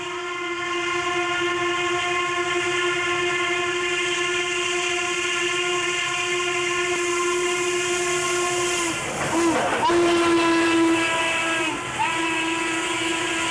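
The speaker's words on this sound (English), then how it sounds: "this train was already on the move, going up grade on the Buckley sub." A loud, sustained train horn blares close by from a train climbing a grade in snow, with steady harmonic tones over rumbling rail noise, briefly breaking and sounding again near the end.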